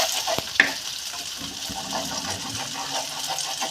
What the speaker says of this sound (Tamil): முட்டை நல்லா பொரிஞ்சு வரட்டும்.